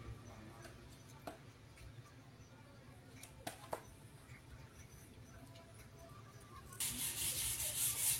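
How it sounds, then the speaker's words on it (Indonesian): Sandpaper rubs over the freshly cut edges of 9 mm plywood panels for a 12-channel mixer hardcase, a soft continuous scratchy scrubbing with a few light knocks, ending in a louder hiss. "bagusnya kita amplas dulu untuk bekas potongan-potongan supaya rapi dan bisa presisi"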